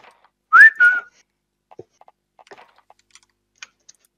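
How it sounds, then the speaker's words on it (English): A person whistles a short, clear two-note glide that rises and then holds, followed by scattered soft keyboard clicks in a quiet room. "Stop whistling, Jackson has a headache."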